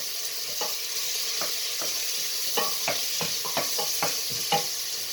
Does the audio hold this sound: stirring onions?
yes